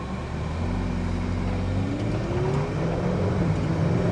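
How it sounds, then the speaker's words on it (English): A Ferrari's exhaust revs and rises in pitch as the engine accelerates, a steady, close and fairly loud drone building over a few seconds. "So there you can hear that exhaust kick in."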